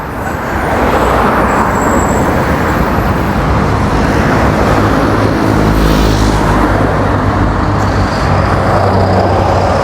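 Street traffic in Mexico City with purple city buses passing, giving a loud, continuous roadway rumble and engine drone up close. A vehicle surges louder around the middle, and there is no speech.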